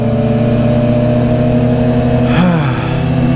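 A Yamaha R6 sport bike engine runs loud and steady with a strong droning hum, then gives one brief rev that rises and falls before settling back to the same constant drone.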